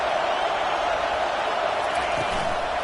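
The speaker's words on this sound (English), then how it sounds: "This crowd, full throat, splitting the eardrums and letting them know it's going to be a long day." A loud stadium crowd roars at a Notre Dame versus Ole Miss college football game, forming a dense, steady wall of cheering noise that fills the whole moment.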